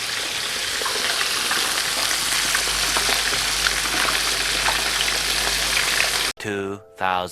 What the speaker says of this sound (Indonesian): Oke, ini kita goreng guramenya sampai matang ya.